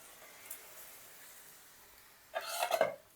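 Lentils for a vegetable dal are tipped into a pan of cooked vegetables and spices, making a short rustling, scraping burst near the end after near silence.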